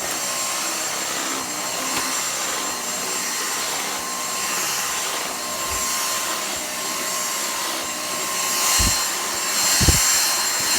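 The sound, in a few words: Dyson cordless vacuum cleaner running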